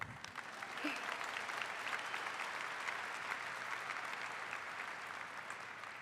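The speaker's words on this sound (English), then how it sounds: "This is where you all applaud." Graduation audience at a high school class of 2022 ceremony applauding steadily for several seconds, a dense even wash of clapping from a large crowd.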